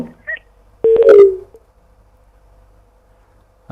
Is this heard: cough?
no